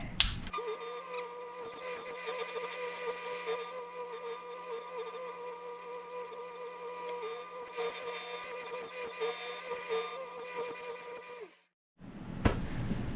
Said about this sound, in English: we're going to use the really quick belt sander here